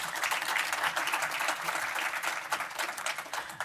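A panel audience at Power-Con 2018, at Mattel's Masters of the Universe session, gives a steady round of polite clapping, thick with overlapping claps that hold an even level for several seconds.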